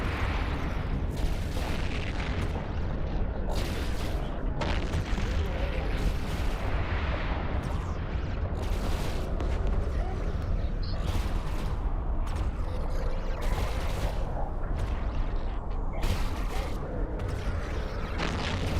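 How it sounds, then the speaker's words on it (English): Weapons firing at a sentry gun in the space game EVE Online make a continuous barrage of booming, cannon-like shots with rumbling explosions, a dense and steady onslaught from start to finish. "let's whack a sentry gun. And then we can start shooting other things."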